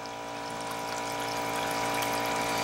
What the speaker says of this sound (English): The air is going to push all the water out.